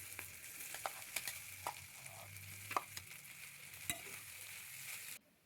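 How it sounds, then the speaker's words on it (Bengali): Mashed boiled potato frying in refined oil in a hot wok, a soft continuous sizzle broken by scattered scraping taps of a stirring spoon, fairly close with no voices. "এবার কড়াই গরম করে 2 চামচের মতো রিফাইন্ড অয়েল দিলাম। চটকে রাখা আলুটা দিয়ে দিচ্ছি।"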